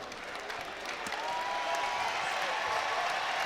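A basketball crowd at Minges Coliseum applauds and cheers in a steady, fairly distant wash of noise that swells slightly and holds.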